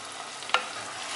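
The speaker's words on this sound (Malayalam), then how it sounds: "നമുക്കിതിലേക്ക് കഴുകി വൃത്തിയാക്കി മുറിച്ച് വെച്ചിരിക്കുന്ന കണവ ചേർക്കാം" Cleaned, cut squid with tomato and salt fries in a pan for a Kerala-style roast, giving a steady sizzle with a single sharp scrape of a spoon stirring partway through.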